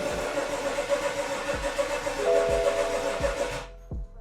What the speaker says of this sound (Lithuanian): Geras ženklas, kad variklis prasisuka ir jokių pašalinių garsų nėra.